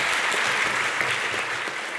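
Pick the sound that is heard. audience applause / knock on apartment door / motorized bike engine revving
audience applause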